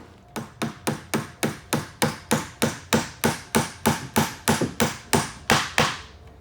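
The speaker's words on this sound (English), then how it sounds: "And then you get your rivet there. Hammer it in." Steady hammer blows striking metal while hammering in a rivet, about seventeen sharp evenly spaced hits, loud and close, with no talking.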